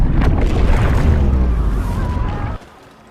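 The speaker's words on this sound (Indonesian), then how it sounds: "Meskipun ledakan itu cukup kuat, beruntungnya mereka berhasil selamat." A detonated charge explodes in a film scene beneath the city of Paris, a loud, close boom followed by a rolling, rumbling blast that sustains and then cuts off abruptly.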